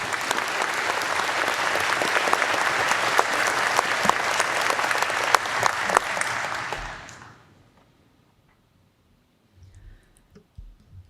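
Loud, dense crowd applause at a university commencement ceremony welcoming a speaker, sustained for several seconds, then fading out quickly into near silence with faint handling noises.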